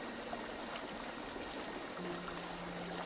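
Creek water flows steadily in a scene from the 1998 war film The Thin Red Line, a soft, continuous wash of running water heard at a low level with no voices.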